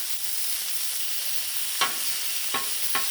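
Pork stir fry sizzles steadily on a Blackstone griddle, a constant hiss broken by a few scraping stirs of a spatula.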